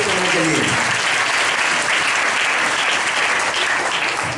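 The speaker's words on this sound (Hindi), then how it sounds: "एक बार ताली बजाएंगे सुंदर वचन के लिए।" A church congregation at a Hindi-language Christian service bursts into sustained, dense applause that stays steady and fairly loud throughout, with no talking heard over it.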